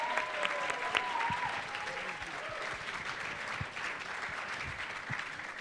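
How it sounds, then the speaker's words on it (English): A room of alumni at the 2014 Chicago ILI panel claps for the moderator, Eboo Patel, a dense, even roll of applause that holds steady, with a few louder individual claps and faint voices mixed in. "Let's give him a round of applause."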